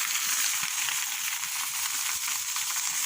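Boiled olives tossed into a frying spice masala for homemade olive pickle give off a loud, steady, close sizzle that crackles without a break and with no voices.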